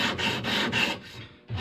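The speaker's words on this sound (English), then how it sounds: "we'll go ahead and get to work on sanding the riser" Rhythmic hand sanding of a wooden longbow riser with 80 or 60 grit sandpaper, coarse scratchy strokes back and forth, about four passes close up, with a brief pause before a final stroke.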